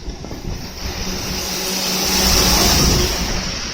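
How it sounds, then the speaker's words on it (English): A garbage truck drives past on a street at night, its engine rumble swelling as it nears and peaking close by before easing off slightly. "Look at this garbage truck"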